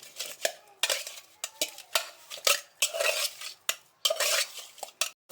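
Pangas fish pieces are mixed with chili, coriander and other ground spices in a bowl, producing close, rhythmic wet scraping and clattering bursts against the dish with brief pauses between strokes.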